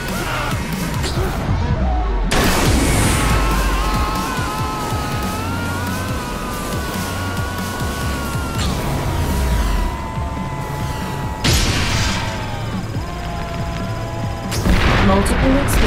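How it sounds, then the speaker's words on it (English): Several booming explosions from the ScreamRide demolition game ring out amid a continuous roar of crashing debris and music-like tones, loud and dense across the whole stretch. "Multiple explosions detected."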